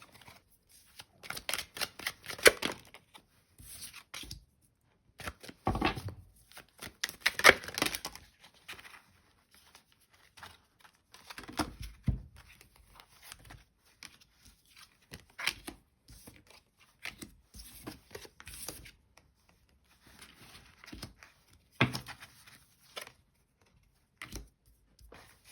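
Tarot cards being shuffled and handled in repeated soft riffling bursts with short pauses, close and fairly quiet, with no talking.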